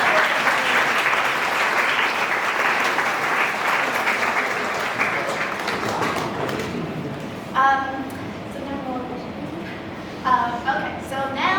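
Applause fills a graduation ceremony at a college of Chinese medical arts as the audience claps for the graduates' family members. Steady clapping for several seconds fades into scattered claps and thumps, with voices talking near the end.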